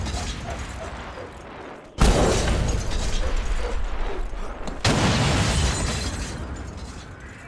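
Explosions boom at the front gate of a fortress in the Mad Max video game, two sudden loud blasts that each give way to a sustained roar of rumble and debris.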